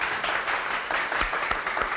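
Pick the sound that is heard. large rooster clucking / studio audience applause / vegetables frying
studio audience applause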